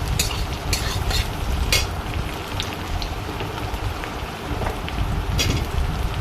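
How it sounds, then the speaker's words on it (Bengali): Onions fry in hot oil with cumin in a pan, making a dense crackling, rain-like sizzle with a few sharper pops and stirring sounds, steady and fairly loud with no voices. "তেলের মধ্যে একটু পেঁয়াজ দিয়ে দিলাম"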